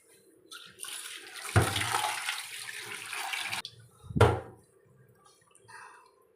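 Running water from a tap splashes in two bursts, a long rush and then a short one, with quieter trickling between while fish are washed in a kitchen.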